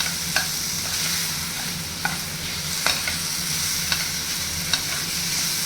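Egg fry with small tomatoes sizzles in a pan while a utensil stirs it, sharp scraping clicks landing every second or so over a steady close frying hiss; no one speaks.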